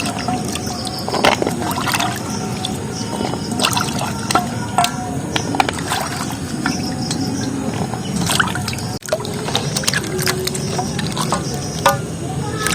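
Jackfruit seeds are washed with water on a plate, making continuous close splashing, trickling and dripping sounds with scattered clicks of seeds knocking together, while a voice occasionally talks underneath.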